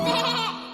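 A child imitates a sheep with a short, wavering bleat, close and clear, lasting under a second.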